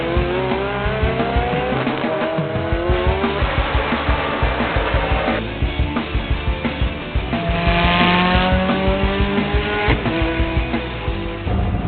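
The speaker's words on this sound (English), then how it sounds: "The Ferrari uses a sequential gearbox that's operated by paddles that are on both sides of the steering wheel. Downshift here, upshift there." Ferrari GT3 race car with a paddle-operated sequential gearbox screaming along a track, loud engine notes rising and falling through repeated upshifts and downshifts, with brief tire squeal.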